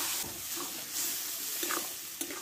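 Boiled chana dal poured into a hot pan and stirred, giving soft scraping and stirring strokes over a faint, quiet sizzle.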